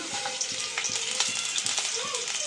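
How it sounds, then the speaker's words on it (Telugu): Tempering spices crackle and sizzle in hot oil in a home kitchen pan, a steady close frying hiss with frequent small pops and occasional stirring scrapes throughout. "ఆయిల్ వేడైంది కదండి ఇప్పుడు దీంట్లో తాలింపులు వేసేస్తున్నారు"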